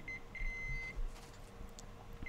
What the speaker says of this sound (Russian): где-то что-то пищит